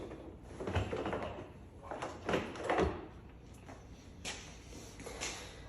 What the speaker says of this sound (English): we can go ahead and slide this door panel off